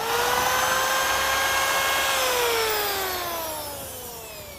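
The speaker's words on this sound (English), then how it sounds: "We've now drilled our holes" A power drill whines steadily at high speed, its pitch drifting downward as it bites into a caravan's A-frame, loud and close, then easing off slightly near the end.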